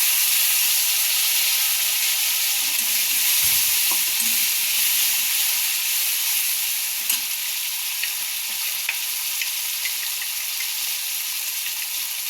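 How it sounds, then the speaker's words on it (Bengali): Poppy seed, mustard and chili paste sizzles steadily in hot oil in a pan, a continuous close frying hiss with faint stirring knocks near the start. "এবার পোস্ত, সর্ষে আর লঙ্কার পেস্টটা এর মধ্যে দিয়ে দিলাম।"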